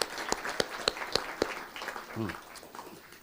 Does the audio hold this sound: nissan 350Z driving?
no